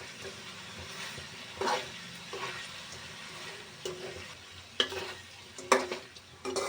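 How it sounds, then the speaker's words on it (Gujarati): Chicken gravy with salt and turmeric is stirred in a pan, a soft low sizzle broken by repeated scraping knocks of the spoon against the pan. "હવે આપણે એને હલાવીશું."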